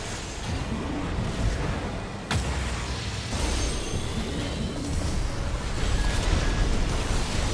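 Laser cannon blasts and explosions in Armored Core 6 PvP combat, a dense loud roaring barrage with a sharp crack near the start and sustained booming rumble throughout, no talk.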